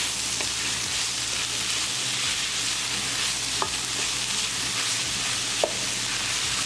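Ground bison keema with peas and fresh cilantro being stirred in a hot pan, a steady sizzle with a few sharp scrapes of the spoon against the pan, close and alone without talk.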